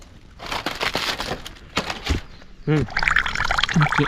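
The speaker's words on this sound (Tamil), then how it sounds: "கொண்டாந்த பையிலே தண்ணி ஊற்றி களைஞ்சிக்க போகிறோம்" Water splashes and pours into a bag in short gurgling bursts, close by, rinsing grain, with faint background sounds.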